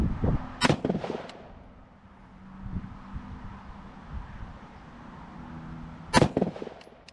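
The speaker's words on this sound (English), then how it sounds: "Alright, so shoot another group." AR-15 rifle fired during zeroing at a range: two sharp, loud shots about five seconds apart, each with a booming tail, over steady wind noise outdoors.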